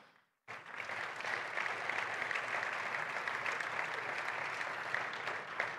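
An audience at a basketball Hall of Fame ceremony bursts into applause for a newspaper editor on stage, sudden after a brief silence, then steady dense clapping for several seconds.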